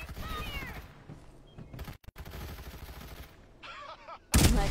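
Gunfire in the battle video game Rise of the Legend, with scattered shots under talking and a loud burst of fire at the very end.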